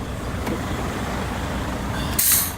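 Handbrake on a dump truck pulled back on after unloading, giving a short, loud burst of air brake hiss near the end over a steady idling engine rumble.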